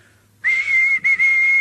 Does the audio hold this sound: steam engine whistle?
yes